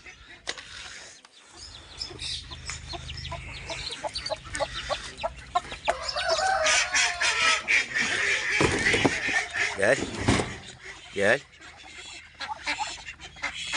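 Mixed ducks of several breeds being let out of their pen, with fowl calls and clucks alongside metal clanks of a gate latch, under a man's brief calls.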